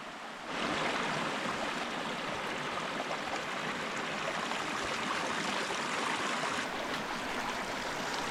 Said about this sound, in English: So let's get to creek crossing.